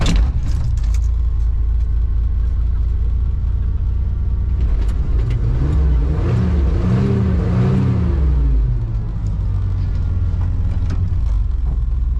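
A 1990s pickup truck's engine runs steadily and loud up close, then revs up and falls back in a rising and falling sweep before settling into idle again.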